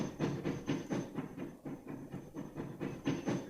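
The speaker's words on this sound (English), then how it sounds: "Oh, look at that train." Rhythmic clickety-clack of a Big Boy train running in the Transport Fever video game, regular wheel beats repeating about every third of a second, fairly quiet and without talk.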